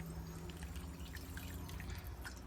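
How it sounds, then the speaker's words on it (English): Filtered water pours into a pot over chicken soup ingredients, a steady low trickle and splash heard close up and alone. "I'm just going to cover that up with some more filtered water."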